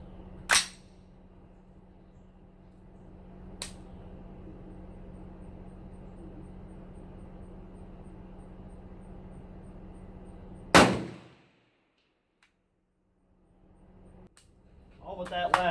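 Rifle shots fired at a range with handloaded competition ammunition: a few sharp, well-spaced reports over a steady background hum, one louder shot near the end followed by quiet, then rustling.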